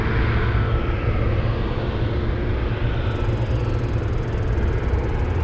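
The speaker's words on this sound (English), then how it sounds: "C-130 Hercules arriving." A U.S. Coast Guard C-130 Hercules turboprop arriving at Anchorage airport, a steady, loud broadband engine roar holding level throughout with a faint high whine joining partway.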